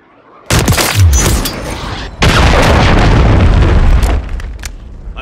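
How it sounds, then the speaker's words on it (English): A cruise missile strike in the Call of Duty Modern Warfare III video game, two loud heavy explosive booms a couple of seconds apart, each followed by sustained roaring rumble and debris noise, close and dominant. "Friendly cruise missile deployed."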